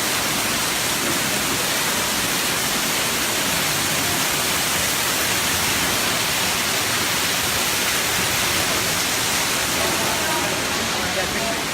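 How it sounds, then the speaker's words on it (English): A constant, dense roar of falling water from a large man-made waterfall in Paris fills the whole clip, loud and unchanging, like a large cascade heard from nearby. "the biggest man-made waterfall in Paris"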